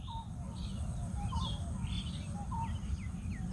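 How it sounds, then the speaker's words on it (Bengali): Several birds chirp and call in short, scattered bursts over a low, steady background rumble. "কতগুলো পাখি দেখছেন"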